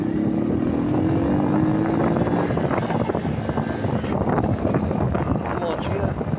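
A Mobylete Superlet four-stroke moped riding along, its engine droning steadily under heavy wind rush, with a rising tone early on and a voice talking over it.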